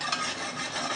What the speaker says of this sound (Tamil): அடி பிடிக்காமல் இருக்கிறதுக்கு இந்த மாதிரி தேய்ச்சி